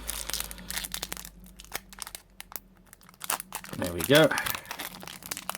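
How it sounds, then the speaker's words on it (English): Yu-Gi-Oh! card booster pack wrappers crinkle and tear in short crumpling bursts, close and fairly faint, with a person talking over and between them. "I am terrible at opening the packs"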